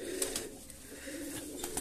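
Pigeons inside a dusty pigeon house coo softly and faintly, a low murmuring call heard at a distance with light rustling and no talking.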